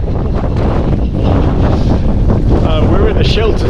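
Strong wind buffets the microphone at a sheltered wild campsite on Dartmoor near Sheeps Tor, a loud continuous roar with rumbling gusts, no voices heard.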